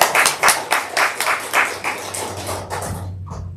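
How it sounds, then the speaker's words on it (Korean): A congregation applauding during an Easter Sunday church service, a patter of hand claps in uneven bursts that thins out toward the end before fading, moderately close with no talk. "우리 박수하겠습니다"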